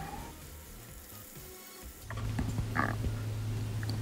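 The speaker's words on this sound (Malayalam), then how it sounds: "ഇതിനകത്തേക്ക് ഒരു table spoon ginger garlic paste add ചെയ്യാം" Ginger garlic paste hits softened onions in a pan for a mince and peas dish, starting a steady close sizzle with a few stirring scrapes after a quieter opening.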